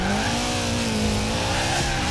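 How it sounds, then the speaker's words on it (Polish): Car drifting in the Forza Horizon 4 racing game, a steady sustained tire squeal over continuous engine roar, loud and unbroken for the whole stretch with no talk. "Ciężko tutaj gadać i jednocześnie driftować."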